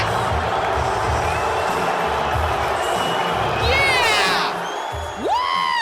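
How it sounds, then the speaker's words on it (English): A large arena crowd at a UFC event in Madison Square Garden boos Donald Trump: a dense, sustained roar of many voices, with whistles and rising whoops near the end. "he got booed at Madison Square Garden this weekend"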